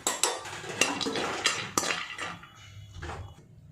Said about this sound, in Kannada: ಈಗ ವಾಲ್ನಟ್ಟು ಮತ್ತು ಬಾದಾಮಿನ ಸ್ವಲ್ಪ ಲೈಟಾಗಿ ಹುರ್ಕೋಬೇಕು.